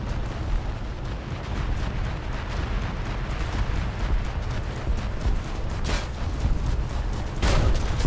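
A torpedo strikes a harbor pier in a naval combat game, setting off a sustained, loud rumble of blasts with two sharper booms near the end over dense battle noise.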